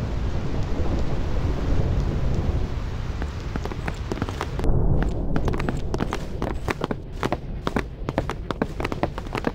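Thunderstorm on the Thunder Plains in Final Fantasy X: steady heavy rain hiss with a low rumble throughout, a swelling thunder roll near the middle, then sharp repeated crackles in the second half.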